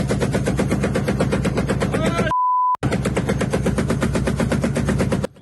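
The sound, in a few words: 12.7mm heavy machine gun firing from armored vehicle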